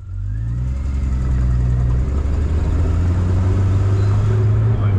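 Triumph TR6 PI with a 2.5-litre inline six running, a steady deep low rumble holding close and loud throughout, with no talk over it.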